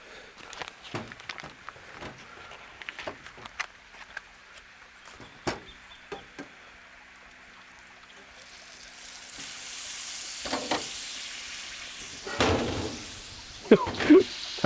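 Butter sizzles in a stainless steel pan on a camp stove while cooking a fry-up breakfast in a camper trailer, a steady frying hiss swelling louder in the second half among scattered knocks and clatter.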